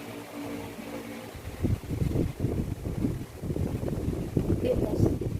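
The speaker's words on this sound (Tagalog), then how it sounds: "Gumagalaw yung aking camera sa hangin." Wind buffeting a handheld camera during an outdoor parcel unboxing, a steady low rumble with gusty bursts that swell and stay loud through most of the stretch.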